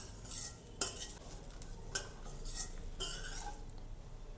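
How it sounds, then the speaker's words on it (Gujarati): Spoon stirring semolina as it dry-roasts in a pan for upma, quiet scraping with a few sharp clinks of utensil against metal, faint and close, no talk. "આ રીતે સૂજીને આપણે શેકી લેવાની છે। 2 મિનિટ સુધી આ રીતે આપણે હલાવતા રહીશું।"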